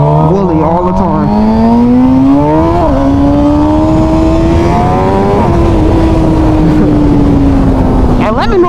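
A motorcycle engine revs hard during a power wheelie race launch: a loud, continuous roar whose pitch climbs, dips briefly, climbs again, then eases slightly, close and dominant throughout.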